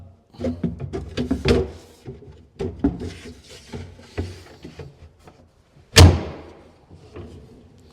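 A drawer pushed shut on SALICE F70 undermount slides lands with one sharp, loud thump near the end, after a stretch of soft knocks and handling sounds.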